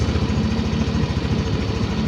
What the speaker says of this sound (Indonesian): Di sini kita bisa menghidupkan motor atau live data. Motornya saya hidupkan